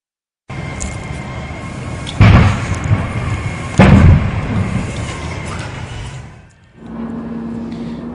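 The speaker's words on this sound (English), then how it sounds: "what you hear exploding there are propane tanks that are used to fuel forklifts" Stored propane forklift fuel tanks exploding at a business fire on Milwaukee's south side, two heavy booms a couple of seconds apart over a loud continuous roar of fire and wind, recorded from a distance on a phone.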